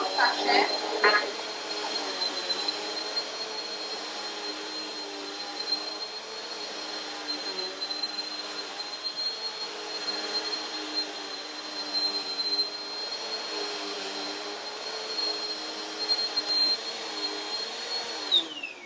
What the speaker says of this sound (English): So I'm going to turn this on. There you go. You can hear that powerful suction.